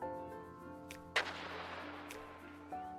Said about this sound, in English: Das Geschepper eines Panzers, der durch eine Wand bricht.